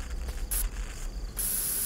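Bear spray discharged in the horror game Fears to Fathom, two short pressurized hissing bursts, the second longer and sustained, loud and close with no talk over it.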